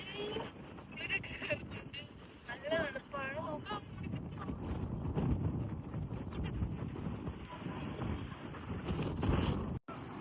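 Wind gusting at a seaside viewpoint in Edinburgh buffets the microphone in uneven, rumbling surges, with a voice speaking over much of it.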